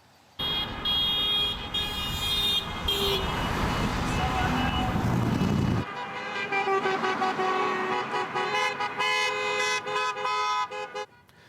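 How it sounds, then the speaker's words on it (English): Car horns honk repeatedly from vehicles driving past a Bobcaygeon nursing home, loud and layered toots stacking over passing traffic noise, with a dense burst early and scattered honks continuing afterward. "People in the area have been taking to their vehicles all week, driving by, honking to show their support for Pinecrest."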